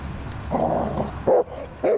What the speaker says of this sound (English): My dog, he downs and then he barks.